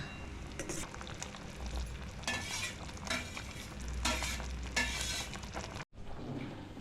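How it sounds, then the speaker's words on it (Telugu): A spoon stirs vermicelli into sago payasam in a cooking pot, giving steady scraping and swishing with a soft sizzle underneath. The strokes come in irregular bursts, close up and with no voices. "ఇందులో సేమియా కలుపుతున్నాను"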